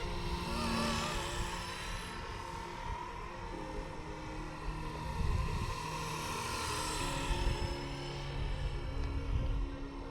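A Blade 230S Smart RC helicopter flies steadily, its rotor whine and buzzing drone continuous and moderately loud throughout, with no voices.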